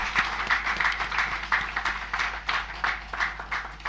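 Audience applause at a formal live event honoring a dignitary, a steady stretch of many hands clapping with slightly rhythmic bursts, moderately distant and without speech.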